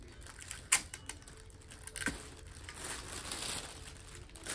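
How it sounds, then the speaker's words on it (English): Tape being pulled and pressed down onto a tote bag used as an Easter basket, with a sharp crinkly rip near the start and then quieter crackling and rubbing of plastic and tape. "So we're gonna take our tape and we're gonna tape it down."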